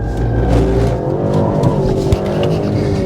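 A Maserati Grecale Trofeo, a 530 hp sports SUV, roars loudly and continuously with its engine revving close by, with faint tyre noise underneath.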